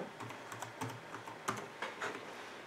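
Fingers tap out a few quick, quiet keystrokes on a computer keyboard connected to a Raspberry Pi 4, with light, close clicks in an uneven rhythm.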